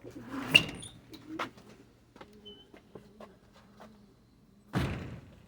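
A pigeon coos softly at close range, low repeated calls broken by a few sharp knocks and wing flutters, at a pigeon show.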